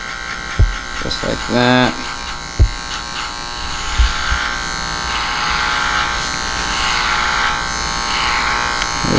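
Electric hair clippers run with no attachment, blade fully open, tapering a classic gentlemen's haircut; a steady close buzz carries through the clip, with brief talk near the start.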